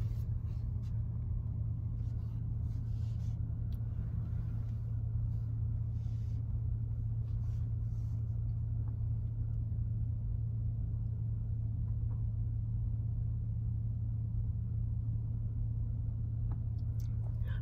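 A car driving along during a learner driver's first driving lesson, practicing curves and braking, heard from inside as a steady low engine and road rumble that continues without a break.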